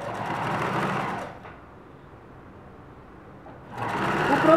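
A sewing machine stitches bias binding onto fabric in two bursts of rapid mechanical whirring, separated by a quieter pause in the middle, heard up close with no speech.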